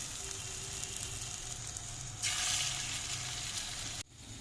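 Brinjal pakoras frying in hot oil in a kadai, a steady close sizzle that swells louder partway through, then cuts off abruptly near the end.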